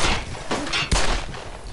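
Rifle fire in the video game Brothers In Arms: Hell's Highway, a couple of loud, close booming shots with rumbling tails, set against a dense battlefield roar.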